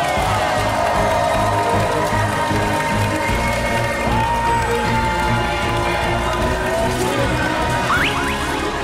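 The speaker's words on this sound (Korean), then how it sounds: "큰 박수로 맞이해주시기 바랍니다" A studio audience claps and cheers steadily and loudly as a company CEO is welcomed onto a Korean TV show stage, with the dense crowd noise sustained throughout and a band or music layer underneath.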